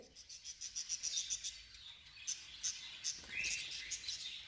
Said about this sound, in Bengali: এই পাখিগুলা অনেক শব্দ করে